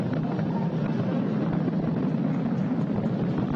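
A SpaceX Falcon 9 rocket's Merlin engines roar during supersonic ascent: a dense, unbroken broadband rumble, loud and steady, with no voices.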